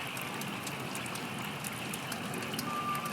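Rain falls steadily on a farm in Oregon, a dense even hiss with scattered drops spattering across the whole stretch, near and fairly loud, with no one talking over it.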